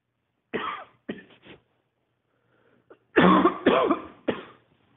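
A man coughs in two short bursts, pauses briefly, then gives a louder run of harsh coughs and throat clearing, close and alone with no talk over it.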